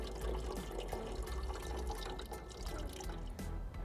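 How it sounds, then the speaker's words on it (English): Coolant drains from a pried-open hose on a 10th-generation Honda Civic with the 1.5L turbo engine, a faint, steady trickle and dribble of liquid into a container, with no talking. "prying these coolant hoses open just to leak out the fluid cleanly"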